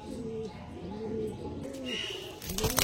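Andhra pigeons coo in soft, repeated low rolling calls close by, a steady series with a brief louder rustle at the end.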